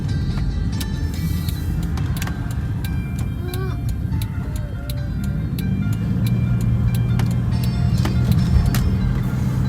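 A 2011 Jeep Liberty KK on brand-new tires drives with a steady road rumble, while a faint ticking runs throughout and engine hum swells slightly toward the end.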